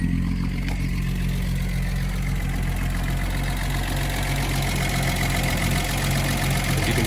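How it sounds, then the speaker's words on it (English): A 1979 Datsun 280ZX engine idles steadily for the whole stretch, a constant low rumble with an even, fairly loud hum and no voices over it. "Let's go ahead and check the engine, see how it sounds."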